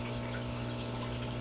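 Aeration bubbling runs steadily in a brine shrimp culture container of salted water, with a continuous low hum and fizzing wash throughout, unbroken and moderately quiet.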